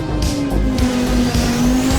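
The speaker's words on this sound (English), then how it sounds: "Another super loud car." Loud rally car engine in the racing game Assetto Corsa Rally, a steady high-revving drone with rising pitch sweeps as the car accelerates, tyre noise underneath, with no talking.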